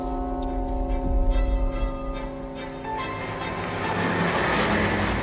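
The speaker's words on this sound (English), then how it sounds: "let's use the bell real quick." A bell rung in the video game WW II Rebuilder tolls with a clear, sustained ringing tone that decays slowly under a soft background rumble, no talking.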